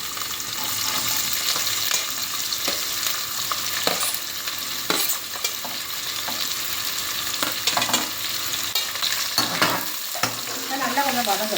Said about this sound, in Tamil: இப்போ வெங்காயம் வந்து நல்லா வதங்கட்டும்